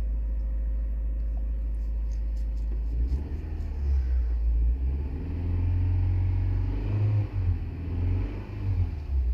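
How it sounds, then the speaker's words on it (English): A 2009 Toyota Corolla 1.8L engine with a cylinder 4 misfire idles and then revs, a low uneven rumble that grows louder and rougher, close and steady for several seconds, with no talking. "That cylinder 4 is misfiring right now."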